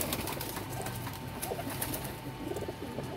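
Kept pigeons, including a female, cooing faintly in low repeated murmurs against a quiet, hissy background.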